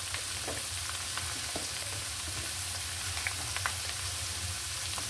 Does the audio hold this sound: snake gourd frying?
yes